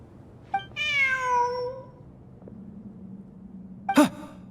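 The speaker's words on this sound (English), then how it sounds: "Look, a cat." A cat in Genshin Impact gives a clear, drawn-out meow that rises and falls over about a second, close and distinct against quiet ambience, followed later by a brief sharp puff or sniff.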